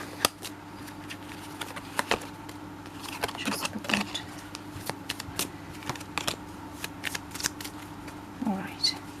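A deck of tarot cards being shuffled by hand, with repeated crisp riffles and flicks at irregular intervals over a low steady hum.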